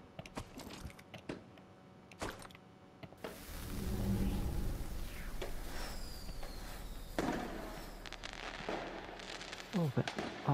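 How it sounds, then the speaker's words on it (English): Video game fireworks in Deceit 2 pop and crackle, starting as scattered sharp bangs, then a swelling rumbling burst with whistles and fizzing, moderately loud, with voices around. "Oh, fireworks."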